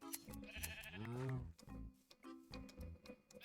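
Sheep in the Minecraft video game bleat in a wavering, quavering cry that rises and falls near the middle. Other short game sounds pop in and out around it.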